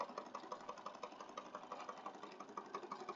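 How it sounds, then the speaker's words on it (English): A sewing machine stitches down the middle of a fabric pocket on a junk journal page, giving a steady, rapid mechanical pulsing whirr, close and continuous, with no voices. "I've got to remember to sew down the middle here to help keep my pocket together on the inside"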